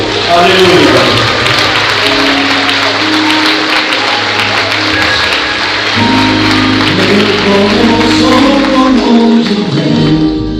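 A church congregation applauds during a Portuguese-language sermon, a steady wash of clapping sustained throughout with music and voices underneath.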